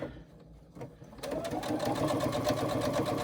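A sewing machine stitches the pleated side panels of a pouch, starting after a short quiet stretch and then running steadily with a fast, even mechanical rhythm, close and loud.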